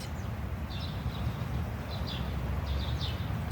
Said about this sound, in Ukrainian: І пташки співають.